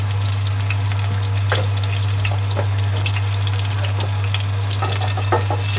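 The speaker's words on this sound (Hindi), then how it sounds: "इलायची हमारी भून चुकी है माशाल्लाह" Cardamom powder roasting in a kadai for homemade sohan halwa gives a steady, close frying crackle with scattered soft spoon scrapes and a constant low hum underneath.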